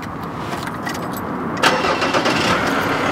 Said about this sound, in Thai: เดี๋ยวผมสตาร์ทให้ทุกคนได้ฟังเสียงเครื่องก่อนดีกว่านะครับ